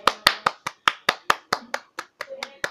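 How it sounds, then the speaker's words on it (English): A single person claps about a dozen sharp, close hand claps in a steady rhythm, each a distinct crisp smack with a short ring, loud and alone. "Round of applause!"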